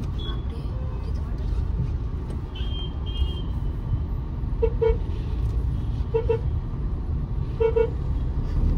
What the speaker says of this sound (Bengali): আমি তো লোকগুলোকে হর্ন দিচ্ছি।